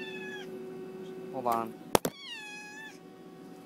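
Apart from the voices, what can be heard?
pet cat meowing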